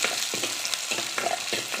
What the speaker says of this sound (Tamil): வெங்காயம் பூண்டு நல்லா வதங்கணும்.